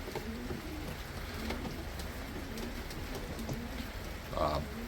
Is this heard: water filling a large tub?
no